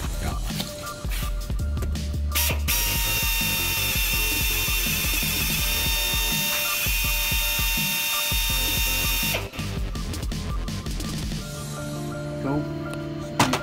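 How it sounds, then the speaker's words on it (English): A loud, high-pitched pneumatic air drill drills out a washer during Subaru Forester suspension work, whining continuously for several seconds with rattling mechanical noise around it, then winds down near the end. "So I'm just going to drill it out a little more."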